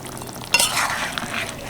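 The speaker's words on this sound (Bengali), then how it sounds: "ভালো করে মিশিয়ে নিচ্ছি" A spoon stirs potato curry with tomatoes and green chillies in a pan: a sharp scrape, then soft sloshing and light sizzling, close and alone.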